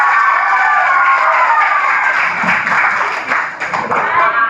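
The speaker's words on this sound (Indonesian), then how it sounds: "beri tepuk" A short burst of applause, steady clapping from a small group for a few seconds.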